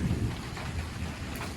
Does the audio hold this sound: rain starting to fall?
yes